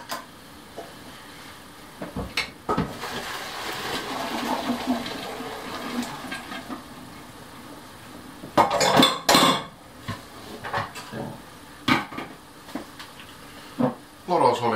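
Boiled pasta is drained in a kitchen with a run of clattering pot and metal knocks, along with pouring and splashing water. A person speaks over it.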